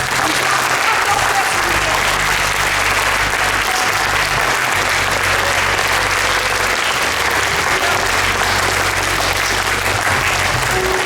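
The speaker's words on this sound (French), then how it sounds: "Un tonnerre d'applaudissements pour eux." A theatre audience at a 2019 dress rehearsal of Tardieu's La Comédie du Langage gives a thunderous, sustained ovation to the technical crew, loud dense clapping running unbroken throughout.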